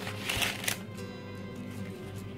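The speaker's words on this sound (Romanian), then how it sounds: "Acum luăm o tăviță de asta care se desface și punem hârtiuță" Baking paper rustles and crinkles as it is fitted into a springform pan for an Oreo cheesecake, a short close burst of papery shuffling that fades into quieter handling.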